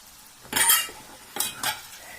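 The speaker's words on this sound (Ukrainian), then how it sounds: "І перемішую все це теж, знаєте, щоб воно теж трошки підсмажилося" A spoon scrapes and stirs through food in a pan, two or three short scraping strokes with quiet gaps between them.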